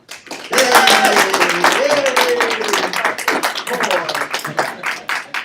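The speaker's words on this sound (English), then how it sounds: "let's help a great round of applause like there's 20 people here" Audience applause welcoming a speaker, loud close clapping that swells quickly and then thins out into scattered claps, while someone speaks over it.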